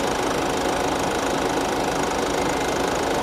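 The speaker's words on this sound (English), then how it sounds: "Let's see what happens when the fan kicks in. There it goes. Kicks in full blast." A car's radiator cooling fan roars at full blast while the engine runs, with the air conditioning being charged; a loud, steady, dense whoosh and hum that stays constant throughout, close up and with no voices.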